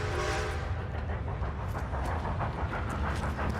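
A train rumbles toward the player during a video game heist mission, a continuous low rolling rumble with faint rhythmic clatter, moderately quiet and steady, with no voices.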